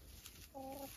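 A chicken gives a short, faint cluck against a quiet outdoor background, a single brief call near the end.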